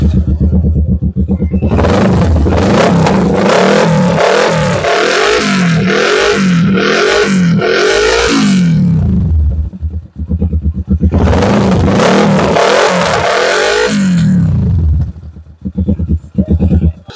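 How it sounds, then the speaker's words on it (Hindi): A Kawasaki Ninja 650 motorcycle with a full exhaust system and the dB killer removed revs loudly and close by, with repeated throttle blips and a deep, rough exhaust roar that returns after a short dip. "और ये आपका डीबी किलर आ गया, अब इसका साउंड आप सुन लो आप।"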